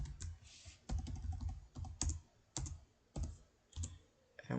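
Steady bursts of typing on a computer keyboard while HTML code is entered, clusters of close, clicky keystrokes separated by short pauses, fairly loud, with no talk over them.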